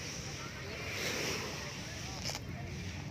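Small, gentle sea waves wash onto the shore at Tondaligan Beach, a soft, continuous rush mixed with wind buffeting the microphone.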